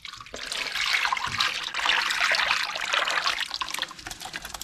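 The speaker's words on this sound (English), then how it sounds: "Dump some of this out into our drain pan." Dirty liquid pours into a drain pan as a steady, splashy stream, fairly close and moderately loud for a few seconds, then thins to a trickle, with no voices.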